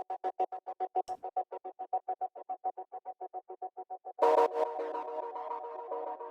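A synth arpeggio chopped in Serato Studio for an Afrobeat beat pulses in rapid, evenly spaced stuttering notes, then gives way to a fuller sustained chord with echo trailing off, clean and upfront.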